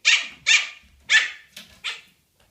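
Pomeranian puppies let out four or five sharp, high-pitched yappy barks in an irregular series, loud and close, then fall silent.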